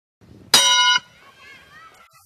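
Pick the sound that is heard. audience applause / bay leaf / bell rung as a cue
bell rung as a cue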